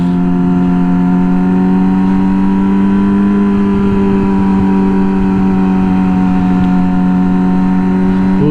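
A Yamaha R6 motorcycle engine sounds close and loud on a highway, a steady high-pitched drone whose pitch rises gently as it accelerates, with no talk.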